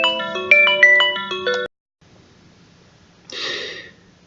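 A melodic phone ringtone for an incoming call plays loudly and close for about a second and a half, then stops, followed by a short breathy noise.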